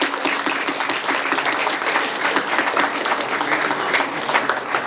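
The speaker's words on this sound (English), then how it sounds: "so let's give him a round of applause" A hall audience at a Constitution Day and Dr. Ambedkar awards ceremony applauds a centenarian honoree with sustained, even clapping from many hands, loud and continuous throughout.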